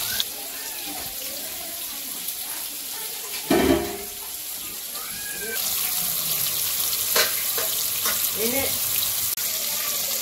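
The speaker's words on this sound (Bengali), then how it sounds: "এই যে মাছ ভাজা হয়ে গেছে" Marinated fish fries in hot oil in a pan in an outdoor village kitchen, a steady sizzling hiss with occasional clatter and faint talk in the background.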